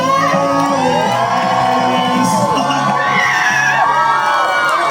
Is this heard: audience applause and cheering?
yes